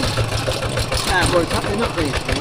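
A tractor engine runs with a steady, rhythmic chugging throughout, fairly close and loud, while a voice talks over it.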